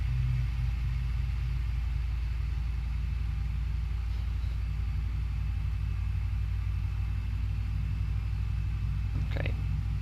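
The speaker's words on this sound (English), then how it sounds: "you can hear the engine sounds so nice" Boeing 737 engine in the X-Plane 11 flight simulator, Zibo 737 model, a steady low rumbling drone, continuous and even, with a faint click near the end.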